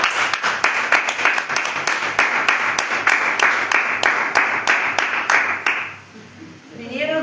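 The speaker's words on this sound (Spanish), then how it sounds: "Amén, den un aplauso." Church congregation applauding during a sermon: a steady, dense burst of clapping that fills the room for about six seconds, then fades out as a voice begins speaking at the end.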